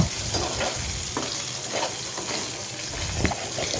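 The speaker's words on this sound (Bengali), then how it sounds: "কাঁচকলাগুলোকে তেলের ভেতরে ভালোভাবে ভেজে নেব" Raw plantains sizzle and crackle steadily in hot oil, a dense continuous hiss with occasional stirring scrapes.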